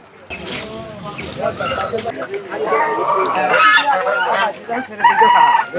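Chickens cluck and a rooster crows close by at a crowded Monday-morning poultry and duck market in Ullapara, Sirajganj, mixed with steady chatter and bargaining voices that grow louder toward the end.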